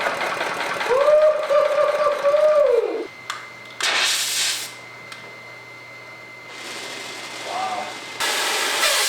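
A homemade triatomic water engine runs with a steady mechanical hum and whine. Bursts of hiss and clatter come and go, and a voice speaks briefly.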